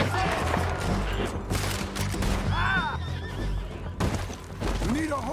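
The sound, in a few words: horses neighing in video game Red Dead Redemption 2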